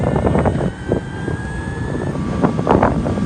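An Evolve Bamboo One electric longboard accelerates at full throttle, with a steady motor whine rising in pitch over rushing wind noise, loud and close throughout.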